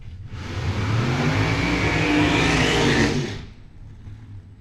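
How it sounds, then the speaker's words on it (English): At a drag strip during bracket racing, a drag racing car backs up after its burnout with a close engine drone that swells, holds for a few seconds, then fades quickly. "So backing up from their burnouts right now"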